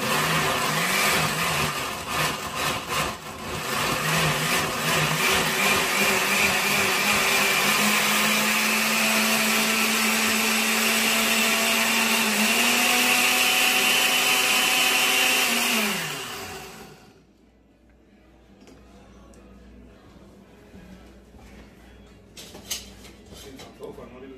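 A blender purees roasted tomatillo salsa with a loud, steady whirring roar that shifts pitch partway through, then cuts off, leaving quiet room sound with a few small knocks.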